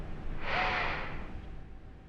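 A single sniff at an odor test pen: one short, close inhalation through the nose that rises quickly and fades over about a second.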